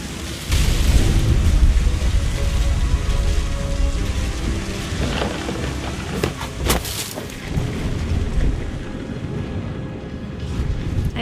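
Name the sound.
thunderstorm in video game What Remains of Edith Finch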